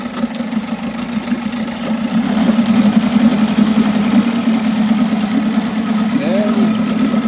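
A 1982 Mercury 7.5 outboard motor idles steadily at low revs, a close, continuous droning hum with a faint knocking pulse that holds level throughout, with a brief rising whine near the end.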